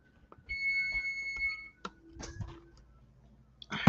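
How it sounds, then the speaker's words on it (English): A kitchen timer beeps in steady tones for about a second, then a few scattered clicks and clatter follow in a quiet room. "That's our timer."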